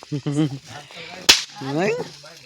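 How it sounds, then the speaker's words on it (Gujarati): One sharp firecracker bursts during Diwali celebrations, a sudden loud crack in the middle of people talking nearby. "ફટાકા કરે."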